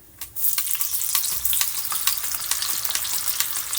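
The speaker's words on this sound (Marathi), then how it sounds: "तर आता मी तुम्हाला एक डायरेक्ट यात खिसून दाखवते" Grated raw banana hitting hot oil and frying into chips, a sudden burst of dense sizzling that settles into a continuous close crackle with faint stirring, no speech.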